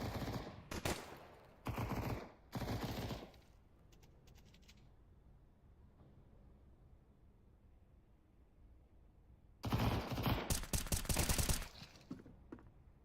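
Bursts of MP9 submachine gun fire in the video game Counter-Strike, several short rapid rattling volleys separated by a quiet stretch, then a longer sustained burst near the end.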